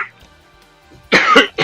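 A couple of harsh, close coughs burst out after a quiet moment, the first longer and the second short and abrupt.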